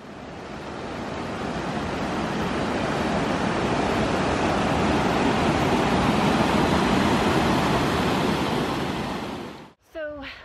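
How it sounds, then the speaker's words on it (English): A waterfall near Lake Tahoe, in Ed Z'Berg Sugar Pine Point, roars steadily and loudly for about nine seconds, then cuts off abruptly as a brief voice follows. "We just stopped by this beautiful waterfall"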